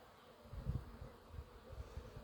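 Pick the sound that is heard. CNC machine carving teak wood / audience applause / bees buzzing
bees buzzing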